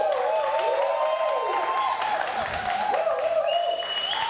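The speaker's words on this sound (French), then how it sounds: "Je pense que ça mérite des applaudissements." Audience applause at a televised children's singing contest, a continuous burst of clapping and crowd noise under music, fairly loud throughout.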